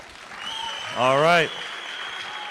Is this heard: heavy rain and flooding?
no